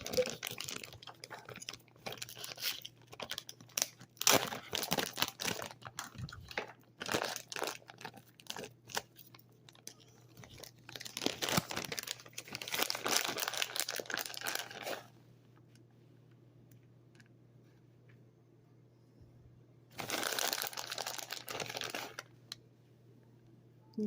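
Plastic food packaging being torn and crinkled open in a home kitchen while making a herb quiche, repeated rustling, crackling bursts with pauses between, close and moderately loud over a low steady hum.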